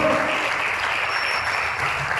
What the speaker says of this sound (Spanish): ¿Cuánto le aplaudo, Señor?